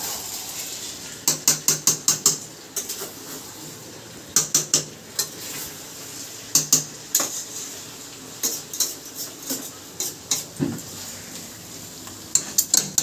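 Meat cooking in a pot, heard as repeated clusters of sharp metallic clinks and scrapes from a spoon against the vessel over a soft background hiss, fairly close.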